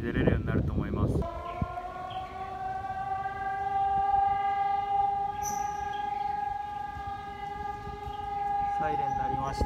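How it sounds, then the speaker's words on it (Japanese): An air raid drill siren in Taiwan wails in a long, steady, unwavering tone that lasts for several seconds, loud and fairly distant, with a short burst of street noise and a voice before it. "サイレン鳴りましたね。"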